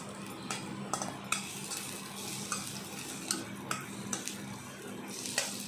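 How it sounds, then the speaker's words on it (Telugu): Chopped onion frying in a pan for dhaba-style palak paneer, a steady low sizzle with a few sharp clinks of a spoon stirring against the pan, moderately quiet and with no voices. "ఇందులోనే ఒక ఉల్లిపాయ కూడా వేసి మంచిగా పచ్చి వాసన పోయే వరకు వేపాలి"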